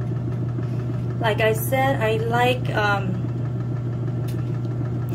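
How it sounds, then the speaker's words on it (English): A Costway mini washing machine runs its spin cycle with a steady, even low hum throughout, continuous and fairly close, while someone speaks briefly over it. "You guys see how it works? It's not moving. The spin cycle is good."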